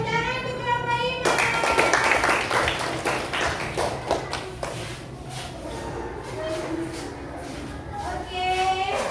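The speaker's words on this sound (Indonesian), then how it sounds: "tepuk tangan untuk kelompok 5" Classroom applause for a student group: a burst of scattered hand claps from students starts after a teacher's voice, thins out and mixes with talking voices and shuffling, then fades back under speech.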